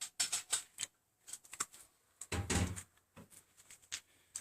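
Someone rattles and tugs at a locked house door: a string of sharp clicks and knocks, then a heavier thud and rattle, with more short clicks after, close by and with no voice.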